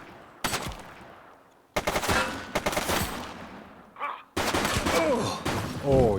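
Gunfire from the police video game The Precinct, bursts of rapid shots in several loud clusters separated by brief gaps, with sirens or game effects sweeping in near the end.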